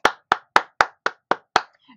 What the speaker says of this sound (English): I have to give her a few hand claps